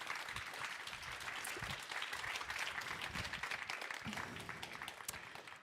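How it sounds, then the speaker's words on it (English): Audience applause for a speaker at an investor meetup for women, a steady wash of many hands clapping throughout, fairly distant and even, with no talk over it. "Let's give her a big round of applause."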